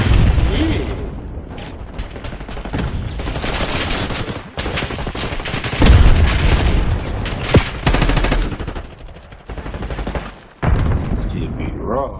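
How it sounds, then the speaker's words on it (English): Gunfire and a grenade explosion in a zombie-themed shooter video game, with dense bursts of rapid shots and heavy booms filling the scene continuously and loudly, punctuated by short gaps and sharp blasts, with voices mixed in. "Grenade incoming."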